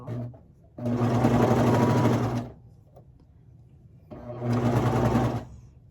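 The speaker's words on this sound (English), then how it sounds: "now I'm going to sew over this tail so that it'll sew off." A home sewing machine stitches small baby leggings in two steady whirring bursts of about one and a half seconds each, close and clear, separated by a quiet pause.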